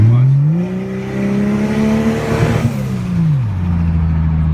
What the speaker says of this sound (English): the turbo just keeps going, and I don't know how to make it stop